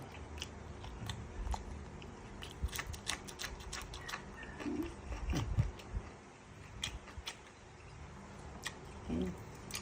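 Someone close to the microphone eats a blanched fish dish, with crunchy bites and moist chewing in irregular bursts and low background noise throughout.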